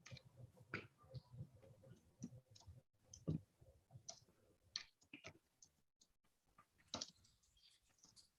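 Scattered keystrokes on a computer keyboard during an online panel on recruitment, soft close clicks in irregular bursts and pauses, with a few louder taps.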